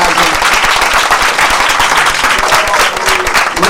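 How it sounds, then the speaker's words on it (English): A large audience breaks into sustained, loud applause, a dense wash of clapping that holds steady throughout. "Let's give them a big round of applause"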